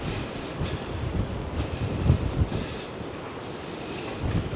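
Gusty wind buffets the microphone on the beach at Mablethorpe in the tail end of Storm Darragh, a steady broadband roar with low thumping gusts and a faint wash of surf behind it.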